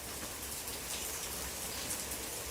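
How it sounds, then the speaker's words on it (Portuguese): Steady rain falls outdoors in a garden setting in December, a dense even hiss of drops on surfaces running throughout with no voices. "É muito linda a chuva."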